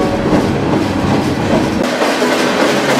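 A freight train rolls past close by, a loud steady rumble of wheels and cars with a rhythmic rattling clatter throughout.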